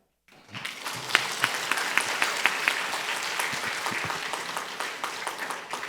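A church congregation breaks into applause during an elder's sermon, a dense burst of many hands that starts abruptly and holds steady with a few louder claps near the start.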